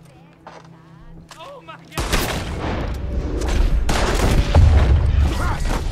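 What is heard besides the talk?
gunshots in video game Red Dead Redemption 2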